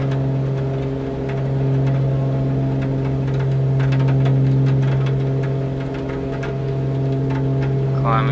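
Steady loud engine drone at full throttle during a climb, with strong sustained hum tones and a whirring texture that holds evenly with little change in pitch.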